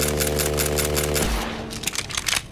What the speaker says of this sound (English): This glitch allows the Infinity Pistol to shoot like this.